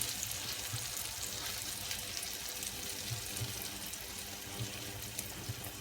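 Polish potato pancakes frying in butter in a pan, a soft steady sizzle with faint crackles throughout, heard close up and quiet with no voices.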